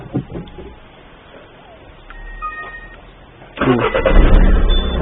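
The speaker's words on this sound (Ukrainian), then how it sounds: "Заводжу я машину." A car engine cranks and catches with a sudden loud onset after a quiet stretch with faint electronic beeps from a Sheriff 1070 alarm system, then runs steadily nearby.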